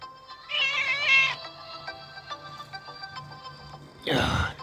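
A neighbour's cat meows twice outdoors, a fairly close, loud drawn-out cry near the start and a second, harsher call at the end, separated by quiet background hum.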